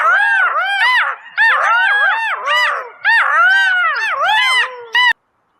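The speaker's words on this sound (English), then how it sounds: "Yeah, those are jackals," Jackals cry in quick, looping, yipping wails, a dense overlapping chorus of arched calls in bursts that stops abruptly near the end, loud and clear with no voices.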